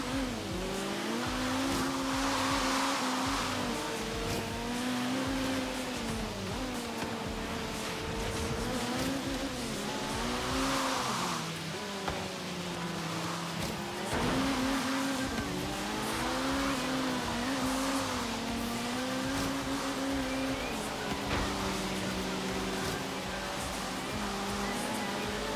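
BMW M3 E30 in the racing game Forza Horizon 3, its engine droning and shifting pitch as it rises and falls through a corner, with tire squeal, loud and continuous throughout.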